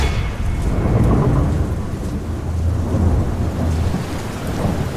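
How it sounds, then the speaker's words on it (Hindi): Heavy, steady downpour with deep rumbling thunder rolling underneath, loud and continuous throughout, no voices. "उसी रात मूसलाधार बारिश के बीच"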